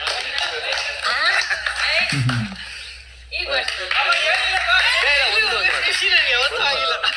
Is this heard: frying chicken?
no